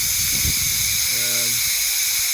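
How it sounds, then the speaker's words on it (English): Steam hisses steadily out during home cannabis oil making, a constant airy rush that holds at the same level throughout, with a brief low hum rising in the middle. "As you can hear the noise, that is the noise from the steam coming out."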